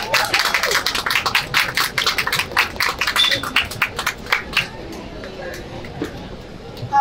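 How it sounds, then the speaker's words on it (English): Audience applause for poet Cynthia Manick at a literary festival poetry reading: dense, close clapping from a crowd with some crowd murmur, strong for several seconds and then thinning toward the end. "Round of applause for Cynthia Manick. Keep clapping."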